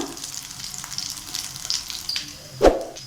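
Potato snack pieces roast in a pan with a close, steady frying sizzle, light crackles and a short louder burst near the end, with no talk.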